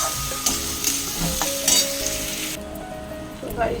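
Steady sizzling of onions frying in hot oil with a little sugar, with occasional stirring scrapes and light clinks close by, no voices.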